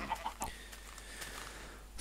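A chicken in the video game Minecraft gives a few quick, quiet clucks near the start, then a faint pause before a brief louder sound at the end.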